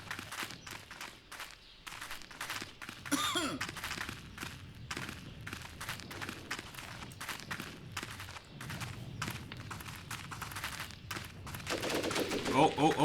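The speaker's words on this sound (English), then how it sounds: "Oh, we got some gunfire." Rapid gunfire crackles through the Graviteam Tactics: Mius Front battlefield, dense bursts of shots and thuds popping continuously at mid distance, growing heavier toward the end, with a voice talking over parts of it.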